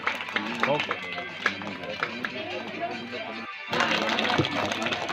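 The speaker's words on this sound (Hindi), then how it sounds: "प्यारे बच्चों, तालियां बजाकर स्वागत कीजिए।" Schoolchildren applaud donors at an annual school celebration in Juadra, rapid overlapping claps from a crowd that swell in a burst after a brief lull, with a low hum and murmuring voices around them.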